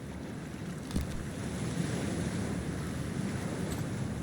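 A character wades into freezing toxic water in Cyberpunk 2077, with a steady wash of surf-like water and wind, a soft splash near the start, and the sound continuing evenly.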